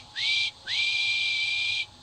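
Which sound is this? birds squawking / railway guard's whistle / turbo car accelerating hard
railway guard's whistle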